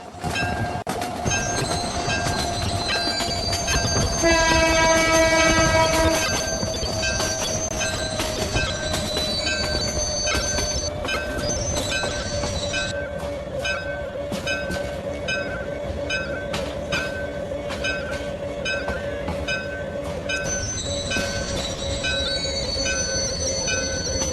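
A train in a train simulator game rolls into a station platform, its wheels squealing steadily over a loud, continuous rumble, with a brief horn-like tone early on. No one speaks.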